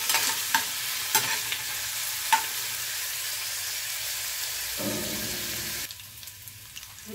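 Bitter gourd (ampalaya) dropping into a pan of browned garlic, a steady loud sizzle with scattered stirring clicks and a brief burst of fresh crackle near the end, no talking.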